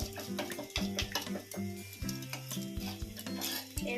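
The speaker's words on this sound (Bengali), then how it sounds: "জলটাও ঘাটিয়ে নেবেন।" Spiced water with chili and turmeric powder stirred in a cooking pot, a steady run of close scraping and clinking strokes against the metal in a quick repeating rhythm.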